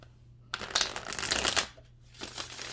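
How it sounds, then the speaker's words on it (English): A deck of tarot cards being shuffled close up, two bursts of riffling and snapping with a brief pause between, then a softer rustle. "Let's get one more shuffle"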